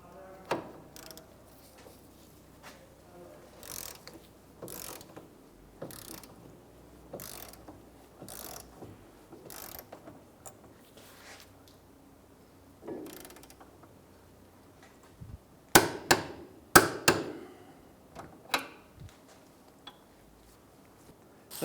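A ratchet-style torque wrench clicks in short bursts while rear suspension bolts on a 2003-2011 Honda Element are tightened, with scattered ratcheting runs and a few louder clacks in a quiet garage.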